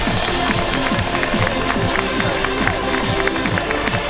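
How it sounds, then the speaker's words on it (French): A crowd at a triathlon prize ceremony applauds and cheers for the women's podium, steady dense clapping with shouts mixed in, loud and continuous under music-like tonal sound. "mesdames et messieurs, applaudissements!"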